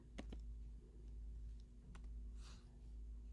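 A few sparse clicks from a computer keyboard as a folder name is typed, with a low steady hum underneath; no one speaks.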